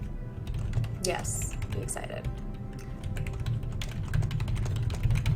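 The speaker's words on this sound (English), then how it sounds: "Are you done typing?" Rapid clicking of a computer keyboard during a livestream of the mobile game Spider-Man Unlimited, steady close-up keystrokes continuing throughout while people talk over it.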